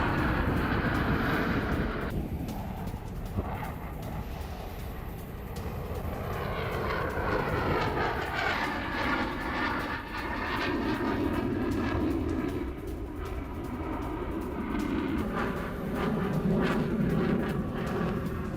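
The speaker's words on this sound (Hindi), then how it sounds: "अब दुबई में गरजे रूसी एयरफोर्स के फाइटर जेट।" Russian stealth fighter jets in an aerobatic display in Dubai roar overhead, a loud continuous broadband engine rumble whose pitch sweeps as the aircraft pass, with no voices.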